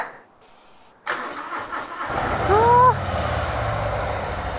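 A 2023 Harley-Davidson Breakout motorcycle pulls away on a test ride in Odaiba, Tokyo. After a quiet start its engine sound rises abruptly into a steady, loud, close rumble with a brief rising whine partway through.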